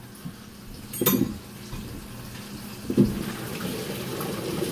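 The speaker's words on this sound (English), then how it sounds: "He is now draining the celery root." Boiled celery root being drained in a kitchen sink: steady running and pouring water, with two brief louder splashes or knocks of a pot against the sink, close and without speech.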